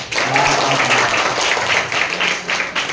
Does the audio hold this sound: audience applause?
yes